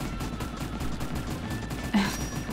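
Gunfire from the video game Ape Escape 3, a steady stream of muffled shots that runs throughout at moderate level, with one sharper burst near the end.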